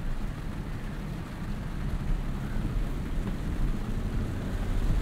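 Heavy rain drums on a 2022 Lexus LX 600 Ultra Luxury while it is being driven, a dense continuous roar mixed with low road rumble and no talking.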